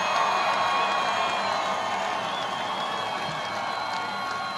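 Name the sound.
rally crowd cheering and applauding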